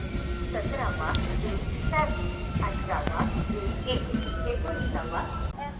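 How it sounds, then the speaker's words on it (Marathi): The Janshatabdi Express passenger train rolls into a station at Chiplun, Konkan, with a steady rumble and clatter, faint horn tones, and a crowd talking loudly on the platform throughout. "आता आपली देखील ट्रेन येते"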